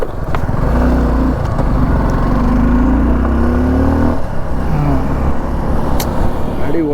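A Suzuki V-Strom 250 SX motorcycle being ridden, its engine droning loud and close with rising and falling revs across gear changes, heavy wind rush, and a voice talking over it.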